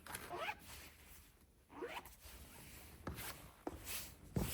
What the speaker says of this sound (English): Very annoying to zip back up without like getting tension in the material.